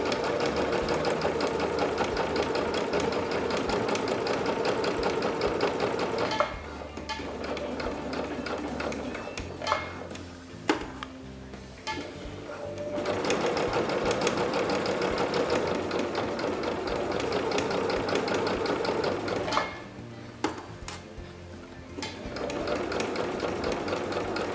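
A sewing machine sews a seam in long, rapid runs of close mechanical chatter, stopping briefly for back stitches and restarting several times, loud and nearly alone.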